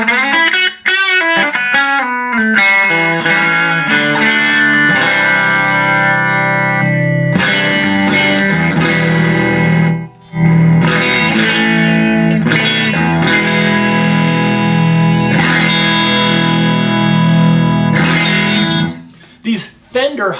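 A Fender Telecaster Thinline electric guitar with humbucking pickups plays through an amplifier, producing loud, sustained, hollow-toned chords and ringing notes with effects. The playing runs almost continuously, with a brief break near the middle and a short pause at the end.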